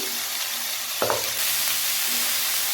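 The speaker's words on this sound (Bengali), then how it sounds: "কেটে রাখা উচ্ছে আলুটা আমরা দিয়ে দেবো।" Chopped bitter gourd and potato hit a hot pan and fry with salt, a sudden clatter of stirring giving way to a steady, close sizzle.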